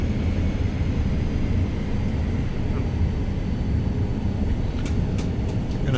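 Cirrus Vision Jet engines roar steadily during a takeoff run in Microsoft Flight Simulator, a loud continuous rumbling whoosh with a few faint clicks near the end.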